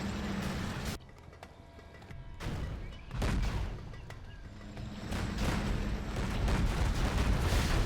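Tank battle gunfire in the Generals Zero Hour strategy game, with repeated booming cannon shots and rumbling explosions layered over a dense, continuous roar of battle.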